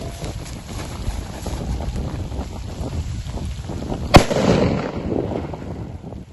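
A grenade goes off at a WWII reenactment in open ground, one sharp, loud blast with a short rumbling tail standing out from steady wind noise outdoors.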